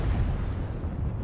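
Artillery strike explosions in MechWarrior Online: a dense, loud rumbling of blasts with a heavy low boom throughout the short burst.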